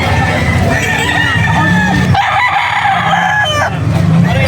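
Gamefowl roosters crowing at a busy rooster market in Bocaue, Bulacan, several birds calling over one another with clucks and crowd chatter, loud and close throughout.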